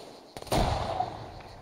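A single loud gunshot in the video game Arma 3 cracks sharply, followed by a rumbling echo that trails off over the next second.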